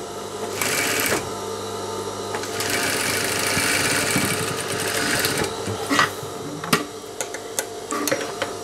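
A sewing machine stitches a cargo pocket in loud rapid bursts, pausing between runs and ending with a few short, sharp taps.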